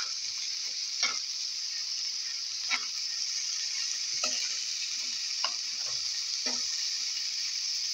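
Food sizzles steadily in a frying pan, a bright constant hiss broken by periodic scraping strokes from a stirring utensil roughly every one to two seconds, close and clear.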